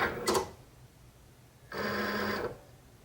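A Cricut cutting machine cutting nail decals: a short mechanical whir, a pause, then a longer steady motor buzz of about a second, close by with no talking.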